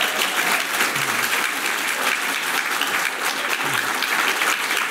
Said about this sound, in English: no taking from your applause at all